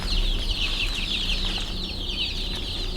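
Backyard chickens kept on pine shavings cluck steadily in a dense, continuous chorus of many birds close by, with no voices over it.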